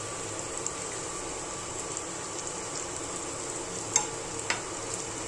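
Cauliflower gobi manchurian fries in oil over a medium flame with a steady, close sizzle and a couple of faint clinks from stirring.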